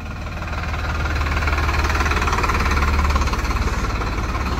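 A Farmtrac-60 tractor engine rumbles nearby with a steady, knocking diesel throb that swells slightly as it draws closer, with no voices.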